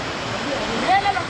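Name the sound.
Sai Rung waterfall in Khao Lak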